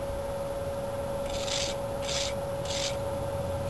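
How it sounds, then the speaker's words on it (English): Wire brush scrubbing a bolt on a Chevy intake manifold, three short raspy strokes close up over a steady background hum, with no talking. "Now I'll just run a wire brush just a little bit."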